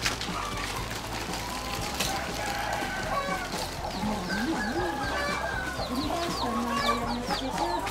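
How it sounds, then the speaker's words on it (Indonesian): Hens cluck and chatter steadily, with occasional bird calls over a constant farmyard background; the sound is moderately close and continuous throughout. "Nah kita lewati kandang ayam dulu"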